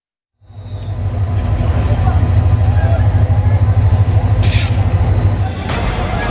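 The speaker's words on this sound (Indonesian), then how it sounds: "Ribuan warga Bangladesh memadati stasiun kereta api Kamalapur di Dhaka Rabu siang waktu setempat." Trains and a dense crowd at Kamalapur railway station in Dhaka, heard as a loud, steady rumble of rail traffic and crowd noise with a faint hiss of brakes.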